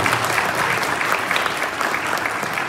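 Applause fills a civil wedding ceremony in Kocaeli, a dense, steady clatter of many hands clapping together at close range for a few seconds with no pause.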